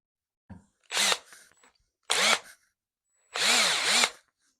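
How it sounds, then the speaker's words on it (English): A power drill driver with a magnetized number 2 bit in its chuck whirs in three short bursts, each spinning up and stopping abruptly, close by with silence between them. "in order to use this in a drill driver"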